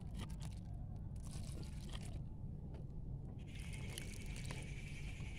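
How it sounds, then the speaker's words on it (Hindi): Water poured over broccoli plants growing in a thermocol box, a faint, steady trickling and splashing wash with soft crunchy scrapes, fairly quiet and continuous throughout. "देखिए मैं पानी दे रही हूँ"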